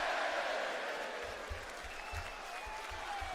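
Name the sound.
wrestling arena crowd chanting one more time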